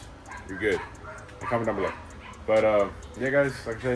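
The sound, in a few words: dog barking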